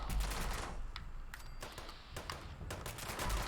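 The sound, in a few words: quad faster fire rate handmade rifle firing in a video game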